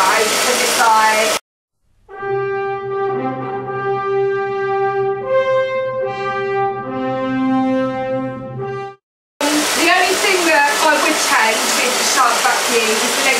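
A corded upright vacuum cleaner with a lift-away feature runs for about seven seconds, a steady loud droning whine with a slight pitch change midway, set between stretches of talking.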